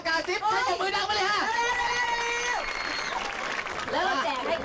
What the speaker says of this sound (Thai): เอาปรบมือดังกันเลย